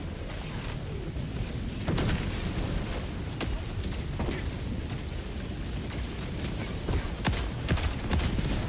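Orbital strike blasts and gunfire in the Helldivers 2 video game: a steady roar of battle with scattered sharp bursts and booms rising out of it, fairly distant and dense throughout.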